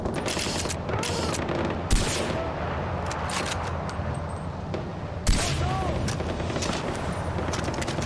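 Dense gunfire fills a firefight in the video game Far Cry 4, with rapid automatic bursts and loud sharp cracks under shouted combat voices, continuous and close.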